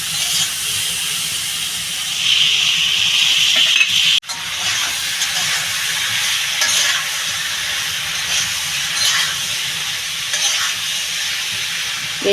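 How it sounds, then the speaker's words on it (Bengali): Steady hiss and sizzle of a Bengali curry of kohlrabi and rohu fish being sautéed and stirred in oil, loud and continuous with a brief break near the middle, no voices. "তরকারিটা একটু ভালো করে কষিয়ে নেব"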